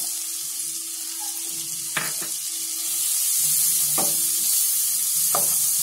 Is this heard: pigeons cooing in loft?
no